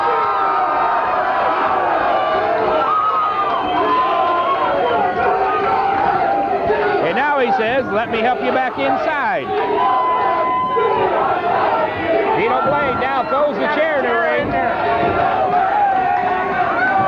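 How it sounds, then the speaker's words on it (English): A wrestling crowd at a 1997 Columbarium show cheers and roars steadily throughout, loud and dense, with shouts and whoops rising above the din while a commentator talks over it. "This crowd is electrified."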